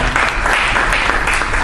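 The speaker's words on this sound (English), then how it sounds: "A big round of applause for Kumar." Audience applause for a speaker being welcomed at a business breakfast event, a loud, steady burst of many hands clapping together throughout.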